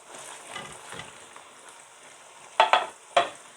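Two grated onions and their juice hit a hot pan, giving a steady low sizzle followed by three sharp, louder bursts of frying hiss near the end.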